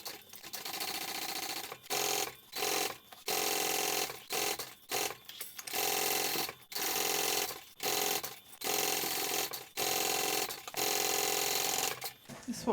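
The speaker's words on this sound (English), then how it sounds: "we're going to baste all the layers, the 2 layers together around the bottom so that it's one whole piece" A sewing machine basting two backpack layers together runs in steady loud whirring bursts, stopping and restarting repeatedly for about a dozen seconds, with short pauses between runs.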